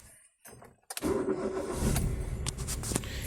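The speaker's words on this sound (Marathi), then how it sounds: "सी एन जीवर असले की व्यवस्थित पिकअप देत नाही गाडी" A car engine running on CNG starts with a short crank and then settles into a steady idle rumble, with a few clicks over it.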